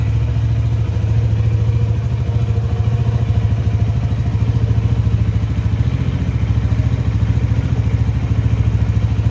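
A 2013 Honda Tiger Revo motorcycle engine idling steadily, loud and close, with an even low thumping pulse and light mechanical clatter, no voices.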